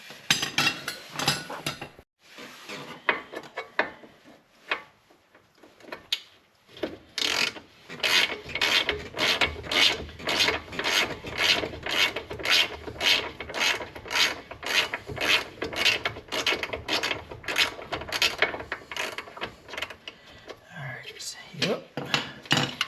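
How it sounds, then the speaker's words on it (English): Ratchet wrench working on a Subaru Forester's suspension during control arm and knuckle removal, giving long runs of rapid, close clicking strokes in a steady rhythm after a brief quieter start. "let's graduate to the ratchet"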